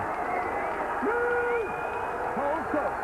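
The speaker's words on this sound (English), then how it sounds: "And the Whitehaven crowd urging their side on." Whitehaven rugby league supporters at a home match against Barrow, a steady roar of crowd noise with shouts rising over it, while a commentator's voice runs on top throughout.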